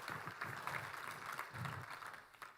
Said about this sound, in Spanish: Denle un aplauso a Jesús de Nazaret.